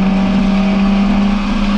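Car driven flat out on a race track, its engine holding a strong steady note at high revs, loud and close from inside the cabin with no voices.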